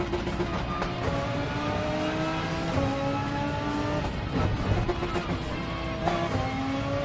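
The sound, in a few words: Audi race car engine in a PS4 racing video game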